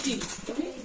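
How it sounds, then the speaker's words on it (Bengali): Pigeons cooing at a household loft: a brief, soft, low coo, fairly near, in a short moment with faint background noise. "আজকে ছাড়লো কেন কবুতর গুলা?"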